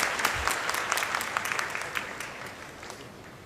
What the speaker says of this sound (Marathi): तर प्लीज त्याच्यासाठी टाळ्या वाजवा.